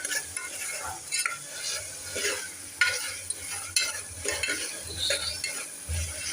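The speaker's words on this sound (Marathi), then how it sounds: "मंद आचेवर हे छान असं परतून घ्यायचं" Chana masala sautés gently over a low flame, a quiet steady sizzle broken by frequent spoon stirs and scrapes against the pot, close up and without any voices.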